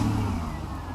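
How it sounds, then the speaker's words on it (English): A Mercedes SL600 engine with repaired throttle bodies and no idle speed control runs at a steady, rough idle, a close, continuous mid-pitched drone with no voices. "So here we have engine started."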